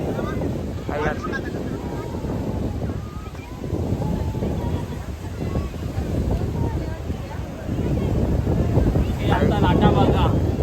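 Sea waves break and surge onto the shore in repeated rushing swells, heavy wind buffeting the microphone, with voices faintly in the background.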